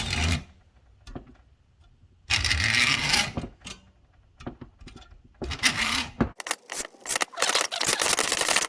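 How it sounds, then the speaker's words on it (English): A hacksaw cuts a notch into a Honda S2000 hardtop lock key in short bursts of close, harsh rasping strokes separated by quiet pauses and small handling clicks. "you can just use a hacksaw. There's no reason to use anything electric. It's just very, very easy to cut through. And so make a notch first."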